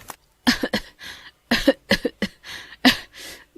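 An elderly woman coughs repeatedly at close range, with several clusters of harsh, raspy hacking bursts separated by brief pauses, with no other sound.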